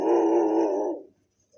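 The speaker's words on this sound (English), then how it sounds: "the dog is aggressive" An aggressive dog lets out a single sustained growling bark lasting about a second, fairly close and loud, on a quiet street in a Swiss town, followed by silence.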